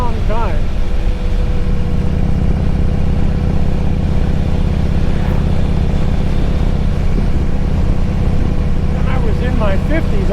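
A Harley-Davidson Road King motorcycle rumbles steadily on a cold Christmas Day ride, its loud, continuous engine drone and wind noise filling the whole stretch with a rider's voice briefly heard over it.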